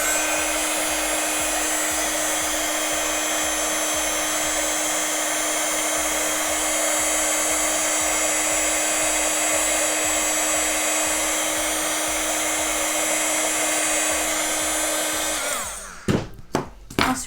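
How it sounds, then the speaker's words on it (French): A heat embossing tool blows steadily and loudly for about fifteen seconds while melting clear embossing powder on a Christmas card, a constant whirring hiss, then cuts off and is followed by a few short clicks and handling knocks. "Et embossage à chaud."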